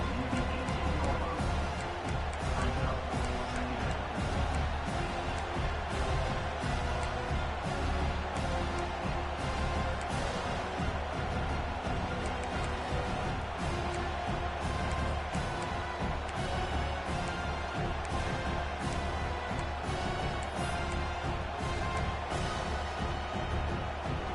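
Football stadium crowd at an Alabama versus Auburn game, a dense, continuous roar filling the whole stretch at a constant loud level.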